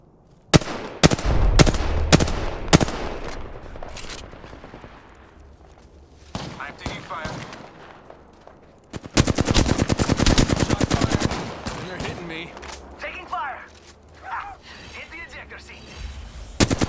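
Gunfire in the video game Apex Legends, loud rapid bursts of automatic shots in two main volleys with quieter single shots between, and a voice speaking in the middle.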